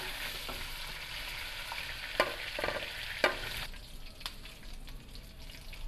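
Chicken pieces fry in oil toward a light golden colour, a soft, quiet sizzle with a few sharp clicks and taps of a utensil near the middle, no voices.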